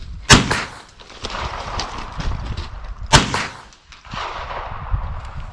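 Two loud 9mm handgun shots ring out about three seconds apart, each a sharp close crack with a short echoing tail, separated by steady background noise at an outdoor range.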